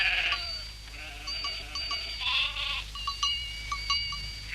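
Several sheep bleat in short, overlapping calls from a flock, some nearer and some farther off, over a low outdoor rumble, with bell-like tinkling, in a cartoon.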